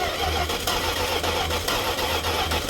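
A car engine turning over and running, a dense steady mechanical rumble with rhythmic pulsing, close and fairly loud, after a fuel line replacement.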